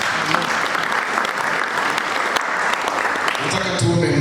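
A church congregation applauding during a sermon, sustained dense clapping from many hands filling the room, with a voice audible toward the end.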